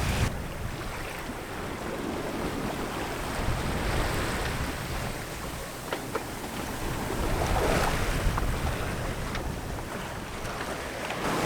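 A sailboat on a very broad reach in about 15 knots of light wind with both sails out, as steady wind and water wash rush past with waves lapping the hull, continuous and close.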